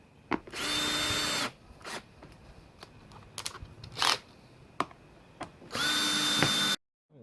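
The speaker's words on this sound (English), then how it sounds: "Just bang these screws in. I'll turn the clutch on the drill right down" Two sustained bursts of a power drill, clutch turned down, whining as it drives screws during a car's power steering mock-up, separated by clicks and handling clatter, with a short pause in between.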